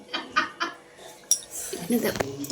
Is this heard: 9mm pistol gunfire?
no